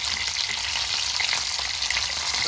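Meat sizzles steadily on a hot grill, a dense continuous crackle and hiss at close range with no voices.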